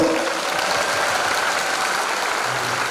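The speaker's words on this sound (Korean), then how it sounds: "박수! 박수!" Continuous applause from a crowd at a choir performance, steady and fairly loud, many hands clapping together without pause from start to end.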